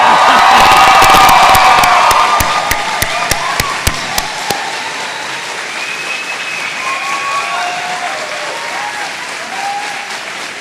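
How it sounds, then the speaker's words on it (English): A convocation ceremony crowd applauds loudly with cheers and whoops, the roar peaking early then thinning to scattered sharp claps and lingering murmurs and calls. "Could we have another round of applause, louder this time, to thank your support group that are here today"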